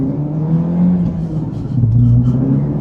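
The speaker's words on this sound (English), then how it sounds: "This car has a Miltech exhaust system, which sounds great." A Renault Megane R26.R fitted with a Miltech exhaust revs, a throaty engine note rising and falling twice in two strong surges over a low rumble.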